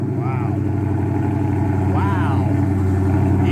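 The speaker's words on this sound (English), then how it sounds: "You got to hear the exhaust note, right?" A car at a Sunday car meet idles after start-up, its exhaust giving a steady low drone close by. Voices talk over the running engine.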